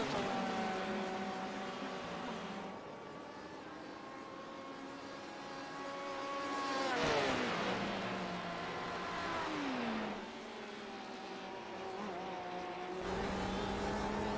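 Race cars from a racing video game circle the track at Sebring, their engines droning and revving through shifting pitches, rising as cars pass and easing off, with no talk.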